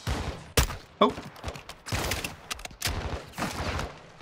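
M4 rifle fire in Call of Duty Modern Warfare 2 rings out as sharp, close shots and short bursts scattered across a few seconds, with a brief exclamation from a voice amid the gunfire.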